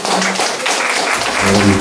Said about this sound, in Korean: 힘찬 박수로 맞이해주시죠.